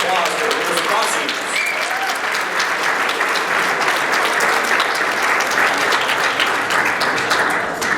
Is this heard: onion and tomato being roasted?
no